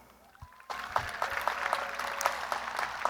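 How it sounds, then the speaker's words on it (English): Graduation crowd at Paloma Valley High School's 2021 in-person ceremony bursts into sustained applause after a quiet start, dense clapping filling a large space with a few whistle-like tones riding above it. "give them a round of applause"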